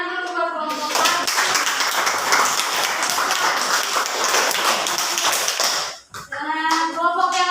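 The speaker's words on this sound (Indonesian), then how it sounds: "Tepuk tangan dulu buat kelompok 1." A classroom group claps for a presenting student group, a dense burst of applause lasting about five seconds, with a voice speaking before and after it.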